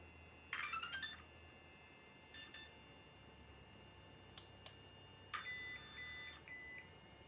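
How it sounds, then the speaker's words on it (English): A Mojave Grom BLX 2s/3s RC car gives a few short, faint electronic beeps as it starts up. The quick bleeps come in separate bursts, with quiet room noise in between and no talking. "Beep 3 times, so that means it's in the medium setting, default for steering"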